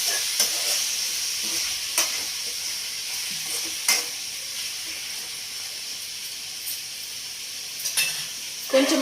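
Ridge gourd and tomato cook in a pan with a steady, close sizzle and hiss, punctuated every few seconds by the sharp scrape of a stirring utensil.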